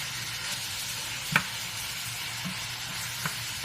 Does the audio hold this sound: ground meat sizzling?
yes